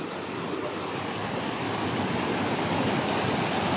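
Strong rushing stream water at a riverbank with golden sand, a dense continuous roar of flowing current, close and steady.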